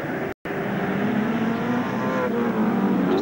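Nissan touring cars racing at Winton in the 1991 Australian Touring Car Championship, a loud, sustained engine roar with steady high revs and a brief dropout near the start, no talking.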